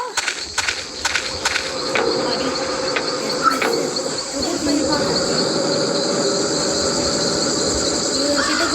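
A train rolls past with rattling wheel clatter and a sustained squeal, loud and close, while crickets chirp steadily throughout.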